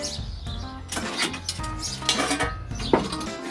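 Metal scraping and clanking as a cooking spatula scrapes loosened dirt off a kamado grill drip pan, in several uneven strokes with sharp clinks, close by and moderately loud, with no talking.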